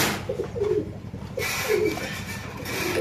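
Caged pigeons at a bustling pigeon market coo in soft, repeated throaty phrases close by, several overlapping calls rising over a constant background murmur of crowd noise.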